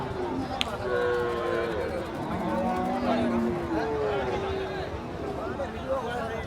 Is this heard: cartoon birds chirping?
no